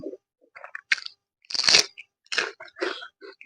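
Crunchy bites and chewing of raw homegrown onion at a mukbang meal, a series of close, sharp crunch bursts separated by short pauses, with no talk.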